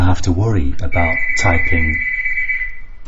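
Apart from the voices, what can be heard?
doorbell ringing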